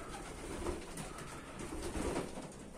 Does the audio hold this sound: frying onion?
no